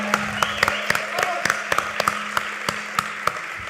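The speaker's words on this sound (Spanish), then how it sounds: "Un aplauso, por favor, a Mateo La Rosa." A live podcast audience applauds at a venue, with scattered, fairly sparse claps sounding over a room murmur, nearby and moderately loud.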